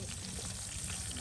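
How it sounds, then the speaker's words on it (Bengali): Eggplant slices fry in oil at an outdoor riverside cookout, giving a steady, dense sizzle that stays even throughout, with no voices over it. "এখন বেগুন ভাজা করা হচ্ছে।"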